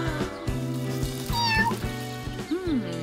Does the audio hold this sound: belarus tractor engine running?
no